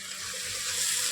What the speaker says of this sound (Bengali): মিক্সির বাটিটা ধুয়ে একটু জল দিয়ে দিলাম।